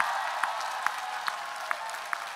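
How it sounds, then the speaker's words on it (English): An audience at the closing session of a library conference applauds, a steady wash of clapping with a few sharper claps standing out at regular intervals. "Please join me to give them a big round of applause."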